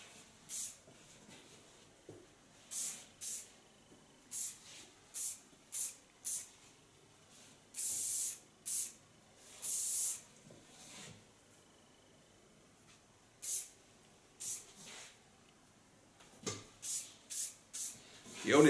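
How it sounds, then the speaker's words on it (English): Short bursts of ultra fine hairspray hiss onto hair in repeated puffs, some brief and a couple longer, with quiet handling noise between them. "Then I take ultra fine spray"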